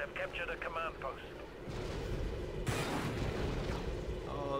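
A blaster shot fires in the original Star Wars Battlefront, a sharp burst near the middle over ongoing battle noise, with radio-like announcer voices and chatter at the start.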